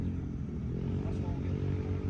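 A motorcycle engine and exhaust produce a steady, deep, throbbing rumble, close and continuous, with no clear revving.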